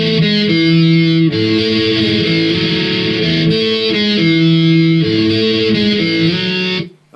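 An electric guitar plays a main riff with heavy distortion, a loud, continuous chugging pattern of shifting chords held close up, cutting off abruptly at the end.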